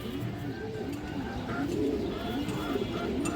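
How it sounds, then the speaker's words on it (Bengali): A female pigeon of a fancy breed coos in soft, repeated low rolling phrases, close and fairly quiet over a faint background hum. "এই যে দেখেন অনেক সুন্দর একটা মাদি কবুতর"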